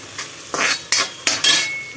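Large-cut onion pieces drop into hot oil in a pan and are stirred, with a loud sizzle that swells in several bursts alongside close metallic scrapes and clinks of the spoon against the pan.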